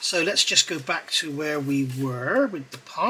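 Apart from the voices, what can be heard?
No everyday noises stand out.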